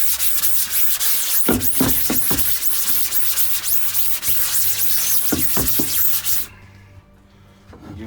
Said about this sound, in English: Give that a little scrub